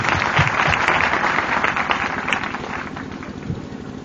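Dense applause from a church assembly congregation, a steady broadband wash of many hands clapping at fairly even loudness, tapering slightly toward the end.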